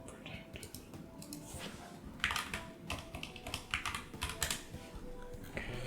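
Password being typed on a computer keyboard, with quick irregular bursts of close key clicks, some louder presses standing out, over a low steady background hum.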